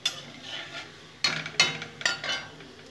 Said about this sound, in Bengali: একটু ফোড়নটা ভেজে নেব